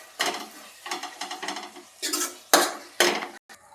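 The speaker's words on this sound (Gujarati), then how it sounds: "અને બધું મિક્સ કરી લેશું એટલે એકદમ લચકા જેવી થઈ જાય" A spoon stirs curry leaf sabji with gram flour in a pan, scraping in a series of close, distinct strokes with soft sizzling underneath, ending with a few louder scrapes.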